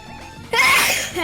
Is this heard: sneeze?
yes